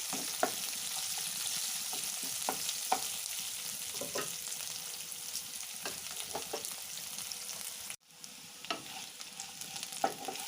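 Onions frying in a pan with a soft, steady sizzle, punctuated by occasional light stirring clicks; fairly quiet with a brief dip near the end.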